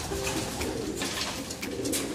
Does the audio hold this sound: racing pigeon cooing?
yes